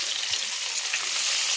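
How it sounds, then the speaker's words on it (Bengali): Onion and tomato, added after bay leaf, frying in hot oil in a wok, giving a steady, bright sizzle heard close up and alone, without any voices. "এবার পেঁয়াজ আর টমেটো দিয়ে দিলাম আমি কড়াইয়ে"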